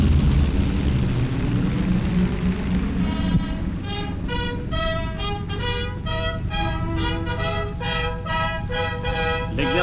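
Military airplanes fly in formation near the aircraft carrier Arromanches in 1956, a broad engine drone that is soon joined by a run of bright, repeated tonal notes over a low steady rumble.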